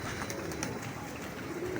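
Pigeons coo steadily and close by, a continuous layered murmur of calls with no speech.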